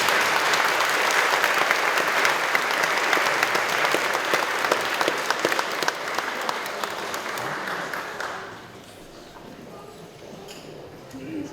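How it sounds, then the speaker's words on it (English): Sustained applause from an audience at a Norwegian bunad costume style show, loud and steady for about eight seconds before fading into quieter room noise. "So let's give them a round of applause."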